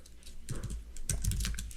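Fingers type HTML code on a computer keyboard in two short bursts of soft, close key clicks, quiet and with no voices.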